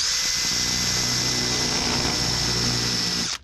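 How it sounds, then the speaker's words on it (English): A power drill runs steadily on full load, drilling out stubborn slotted screws on a wooden boat under restoration. The whine is loud, close and continuous for over three seconds, then cuts off abruptly. "I just can't get a bite on them, so I'm gonna have to drill them out"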